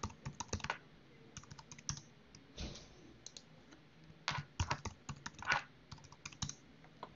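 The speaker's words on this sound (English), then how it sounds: "we're just going to type in our details in each field" Account details typed on a computer keyboard, soft irregular key clicks in quick clusters and short pauses, quiet and close with no voice.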